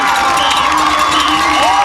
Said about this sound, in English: This crowd is going nuts, Paul.